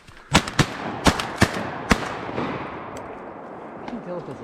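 Several sharp, loud shotgun blasts ring out in quick succession while duck hunting on opening day in Virginia, followed by fading echoes and quieter ambience, with people talking nearby.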